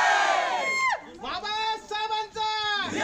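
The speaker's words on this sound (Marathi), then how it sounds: "चंदू चव्हाण यांच्या गावी जल्लोष साजरा केला गेला" Villagers celebrating in a soldier's home village with loud, drawn-out shouts and whoops, several voices rising and falling in bursts close by.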